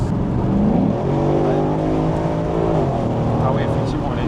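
A Ford Mustang GT/CS engine accelerating in sport mode, heard from the cabin: a loud, throaty drone whose pitch rises through the revs, dips, and climbs again, with people talking over it.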